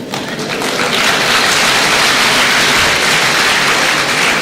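An audience at a university inaugural lecture claps in a dense, sustained wash of applause that stays loud and even throughout.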